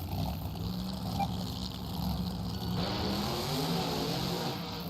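Monster trucks Gravedigger and Rammunition idle and rev at the start line of an arena event in Nashville, a steady loud engine rumble with a rising rev partway through, heard amid arena ambience.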